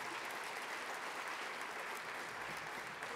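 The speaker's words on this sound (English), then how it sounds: "I want to take a moment to applaud that" Sustained applause from an audience at a diversity forum welcome session, a steady dense wash of many hands clapping, fairly distant and even, with no talking over it.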